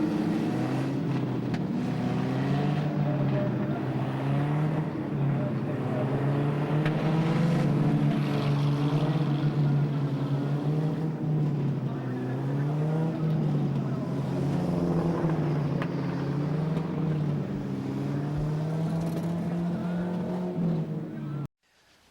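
Banger cars race in pairs at Ipswich stadium in 1978/79, with a loud, steady engine drone whose pitch wavers as the cars rev and circle, continuous and close before cutting off abruptly.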